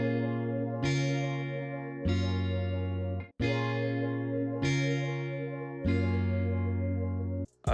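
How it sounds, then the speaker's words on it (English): Talkbox wah synth preset in FL Studio plays repeated plucked chord hits with vocal-like filtered tone, bright decaying notes in an even rhythm, clean and up front with no talking. "which was this Talkbox Wah preset"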